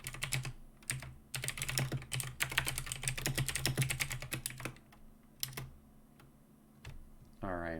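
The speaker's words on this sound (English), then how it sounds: "keyboard ASMR" Computer keyboard typing with rapid clicking keys, bursts of fast clattering strokes that pause and resume, close and fairly loud, with a brief voice at the end.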